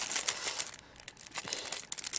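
Plastic film wrapping a sealed deck of plastic playing cards inside its case crinkles continuously up close, a dense run of bright crackles with a short quieter pause in the middle.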